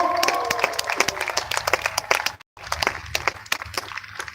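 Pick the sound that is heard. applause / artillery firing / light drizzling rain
applause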